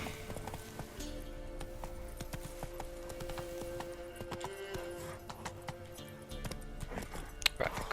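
Geralt's horse Roach trots through the Witcher 3 game world, steady clip-clop hoofbeats running throughout over game music and ambient sound, with a voice present in the mix.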